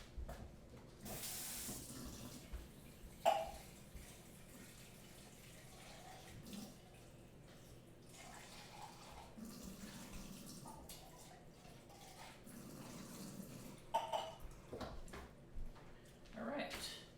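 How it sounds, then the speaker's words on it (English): Tap water runs into a soup pot as a soft, intermittent stream, broken by a couple of sharp clinks and handling noises, with speech partly over it. "So I'm going to put some water in there now."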